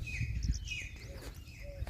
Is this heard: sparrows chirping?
yes